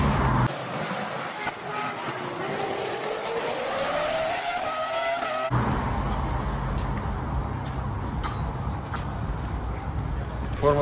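Formula 1 race cars in Monaco roar past at high speed, engine pitch rising and sweeping as they approach, then a dense, loud wash of engine and tire noise continues with background crowd or ambient sound.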